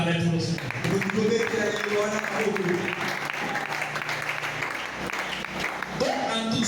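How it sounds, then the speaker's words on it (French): A congregation in church breaks into sustained, loud applause, with clapping, cheering and some raised, sung-out voices over it from start to finish. "Acclamez pour nous"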